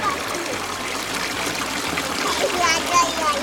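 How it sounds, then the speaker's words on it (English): A public water fountain in Amalfi, Italy, runs in a steady, close splashing trickle, with a faint murmur of voices in the background throughout. "Luca would like to come here and see this fountain"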